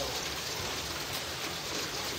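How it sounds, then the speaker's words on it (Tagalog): Hail falling outdoors in Canada, a steady dense patter mixed with rain, continuous and fairly loud throughout with no voices. "Parang hail nga eh."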